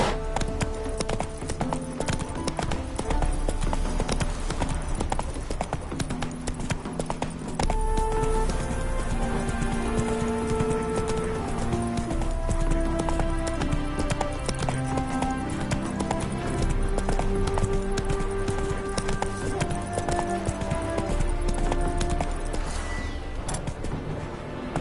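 Roach's hooves pound in a continuous gallop in The Witcher 3 on PS5, a loud rhythmic clip-clop layered under swelling orchestral game music for the whole stretch.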